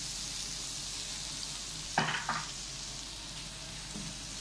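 Crushed onion and garlic fry in butter with a steady, even sizzle, broken by a couple of brief louder scrapes from a utensil stirring them in the pan.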